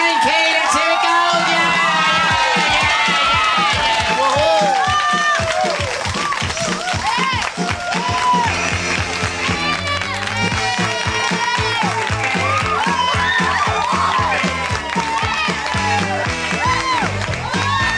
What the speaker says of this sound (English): A nice big round of applause.